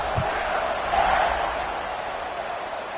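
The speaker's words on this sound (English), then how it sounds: "this crowd is buzzing after that last score" A college football stadium crowd in a steady, broad roar of buzzing noise after a score, distant and continuous with a slight swell near the middle.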